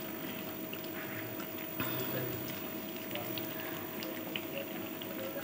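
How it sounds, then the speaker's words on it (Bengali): Jaggery melting with mango pieces for a sweet pickle, cooked without water in a village kitchen, bubbles and pops at a steady simmer, a soft continuous boiling patter close by with no talking. "দেখো এখানে আমার গুড়টা ফুটতে স্টার্ট হয়ে গেছে আমের মধ্যে"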